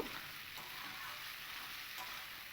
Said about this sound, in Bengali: আলু আর পেঁপে দিয়ে মশলাটার সঙ্গে আমি আরও তিন থেকে চার মিনিট আরও একটু কষিয়ে নেব